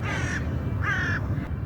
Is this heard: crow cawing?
yes